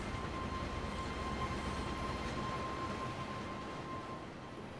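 A train in the Resident Evil 2 video game rolls along with a steady, continuous rumble and a faint sustained whine, even and unbroken for about five seconds before fading slightly.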